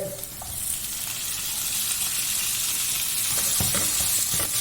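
Two chopped green tomatoes sautéing in a pan give a steady, close sizzle, with a few scraping stirs near the end and no talking.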